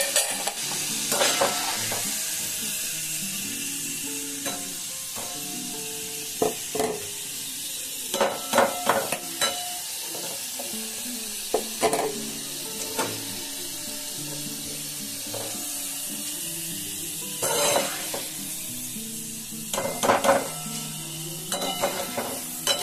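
Food fries in a pan over a low gas flame, with a steady sizzle and repeated bursts of stirring and utensils scraping against the pan, close and clear with no talking.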